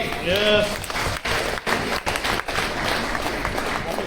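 Audience claps in a loud burst at a live company talk; the applause fades at moments, with a voice speaking briefly over it at the start.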